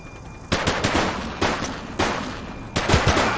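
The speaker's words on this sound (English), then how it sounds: "He's shooting! But they're shooting back." Bursts of video game gunfire in The Precinct police shootout, four loud volleys of rapid shots at about half-second to one-second gaps, close and punchy over a steady low background hum.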